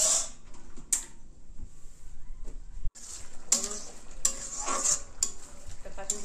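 Pumpkin and mutton stir in a pan with a low background sizzle, punctuated by several sharp metallic scrapes and clinks of a spoon against the cookware, heard close and fairly quiet.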